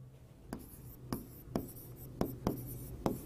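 Chalk or marker strokes on a classroom board during a biology lesson, six sharp taps and short scratches spaced irregularly, close and fairly quiet over a low steady hum.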